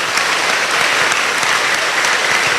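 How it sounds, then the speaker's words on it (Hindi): Loud, steady applause fills a church gathering, a dense unbroken wash of clapping with no voices over it. "जोर से तालियां"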